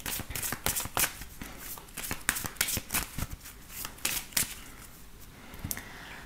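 A Ferry Lenormand deck is shuffled by hand for a 15-card reading: rapid, irregular papery riffles and slaps, close and fairly quiet, running continuously with no talking.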